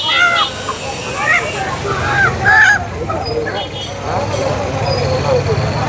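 Ducks and chickens at a rural poultry market, repeated nasal quacks and honks over a busy crowd murmur with people talking, the bird calls close and intermittent.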